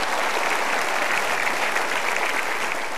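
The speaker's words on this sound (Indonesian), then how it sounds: "Sekali lagi kita berikan aplaus" Steady, dense applause from an audience at an Indonesian talk show, close and sustained throughout without pauses, no voices standing out.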